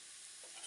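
Mustard seeds, a dried red chilli and curry leaves sizzle steadily in hot oil, a soft continuous frying hiss with a slight swell toward the end, heard close and alone.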